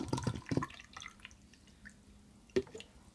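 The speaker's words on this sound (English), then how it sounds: "I'll just pour some water in here" Water poured into a plant container with long-stemmed plants, a few quick close splashes and trickles followed by a single drip, fairly quiet in an indoor setting.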